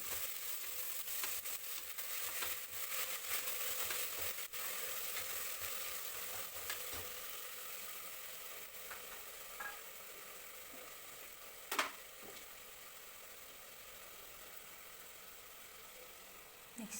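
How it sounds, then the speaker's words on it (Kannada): Sprouted horse gram fries in hot oil with a steady soft sizzle and occasional stirring scrapes, fading slightly toward the end with one brief clatter near the close. "ಮೊಳಕೆ ಕಟ್ಟಿದ್ದು ಹುರುಳಿ ಕಾಳನ್ನ ಹಾಕ್ಕೊಳ್ತಾ ಇದ್ದೀನಿ ಅದನ್ನು ಸ್ವಲ್ಪ ಫ್ರೈ ಮಾಡ್ಕೋಬೇಕು ಎಣ್ಣೆಯಲ್ಲಿ"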